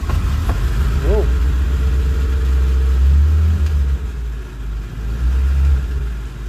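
An old Willys engine runs loud and rough, a low steady rumble with a busy mechanical rattle throughout, a brief whine near the start and people talking at times.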